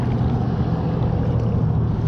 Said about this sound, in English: I apologize for all the road noise